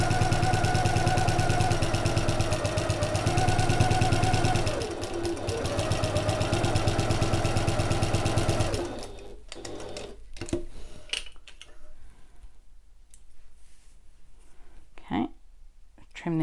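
A sewing machine stitches down the long edge of fabric, running loud and steady with a continuous whirring, rattling drone for about nine seconds, then stopping and leaving soft handling clicks and rustles.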